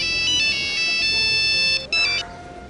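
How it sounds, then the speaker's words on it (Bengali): A phone ringtone chimes loudly and steadily in a repeating electronic melody, briefly breaking off near the end before resuming, with no talking over it. "ফোন বাজে, ফোন ফোন ফোন।"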